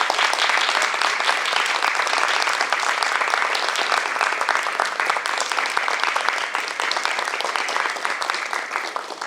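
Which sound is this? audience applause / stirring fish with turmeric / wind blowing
audience applause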